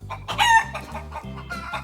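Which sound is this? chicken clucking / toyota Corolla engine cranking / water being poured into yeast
chicken clucking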